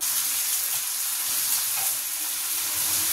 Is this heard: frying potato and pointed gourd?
yes